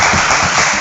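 Loud, dense applause from a conference audience, a steady wash of many hands clapping with no pauses across the brief moment.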